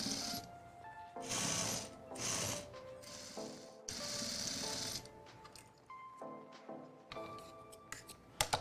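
A sewing machine stitching a rug-textured alien pillow runs in short, close mechanical bursts of whirring and clicking, stopping and restarting several times with no talk.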